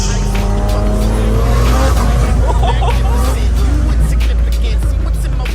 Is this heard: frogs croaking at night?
no